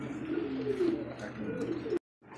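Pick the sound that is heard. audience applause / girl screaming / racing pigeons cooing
racing pigeons cooing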